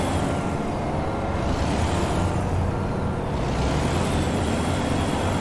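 Dense highway traffic in American Truck Simulator on the Oregon coast, a constant broad roar of passing cars and engine rumble, loud and steady throughout, with no voices.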